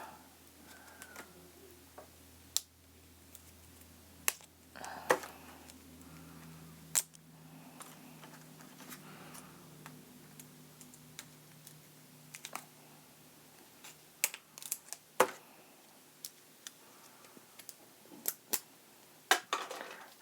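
Hard plastic vertebrae of a toy spinal cord model being pulled apart, giving scattered sharp clicks and clacks at irregular intervals, fairly close and moderately quiet, with no talking.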